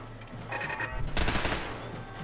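Automatic turret fire in Fallout 4 rattles in fast bursts at moderate distance, building to a denser volley partway through, with no speech.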